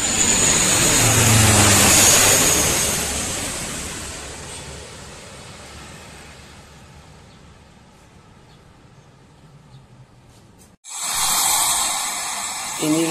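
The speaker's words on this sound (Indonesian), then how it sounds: "C130J Super Hercules TNI AU terbang rutin pagi hari di Halim Perdana" A C-130J Super Hercules military transport of the Indonesian Air Force roars loudly on a routine morning flight at Halim Perdanakusuma air base, the broad turboprop drone swelling, then fading into the distance before a sudden cut to another loud passage.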